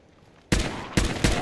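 Machine gun fire in the video game Fallout 4: three loud, sharp bursts of gunfire in quick succession, each ringing out briefly before the next.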